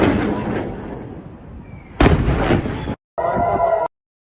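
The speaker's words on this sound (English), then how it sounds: "So these are the rockets being fired." Heavy booming blasts and crackling bursts of rockets being fired from Gaza in quick succession, loud and close, with abrupt cutoffs between bursts.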